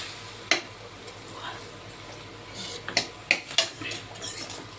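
Food stirred in an oiled pan over a high flame: a soft background sizzle broken by several sharp metallic clinks and scrapes of a spoon against the pan, spaced irregularly.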